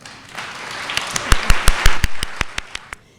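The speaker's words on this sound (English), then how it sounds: "I think everybody here deserves a round of applause." Audience at an awards ceremony applauding, a dense wash of clapping that builds over about three seconds with louder distinct claps standing out, then stops abruptly.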